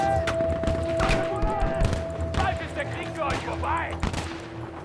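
Bursts of rapid gunfire crackle through a Battlefield V firefight, with repeated automatic volleys and single shots. They overlap shouted voices and background battle noise throughout.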